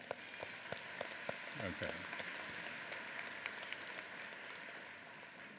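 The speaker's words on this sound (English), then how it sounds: "Lots of us are comfortable with clapping." Scattered, faint handclaps from a university spring convocation crowd tap out irregularly over a quiet hall murmur, with a speaker's voice briefly heard.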